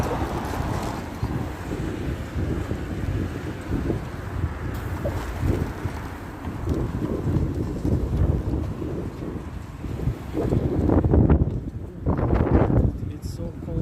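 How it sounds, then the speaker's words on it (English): Cold wind blows steadily outdoors as broadband rumble and buffeting against the microphone, continuous throughout with a louder gust near the end, while a person talks over it. "It's so cold and windy."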